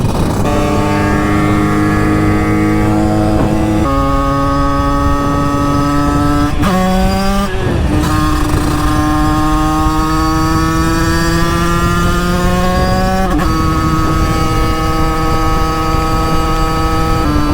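A 50cc motorcycle ridden on an open road drones with a continuous buzzing engine note. The pitch climbs steadily and drops at several gear changes, loud and close throughout with constant wind rush.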